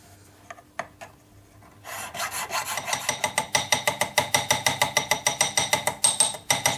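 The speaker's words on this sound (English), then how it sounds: "So you can see it's, with a light sanding," A hollow ring shank is lightly sanded or filed, producing a steady run of close rhythmic rasping strokes that start after a few faint taps and grow louder and more regular, with no talking.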